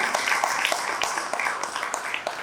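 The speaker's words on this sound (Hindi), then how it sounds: "जोरदार तालियां उनके लिए बजाइए" Applause from an audience at a Hindi kavi sammelan poetry gathering, a steady patter of many hands clapping at moderate distance, filling the short stretch without a break.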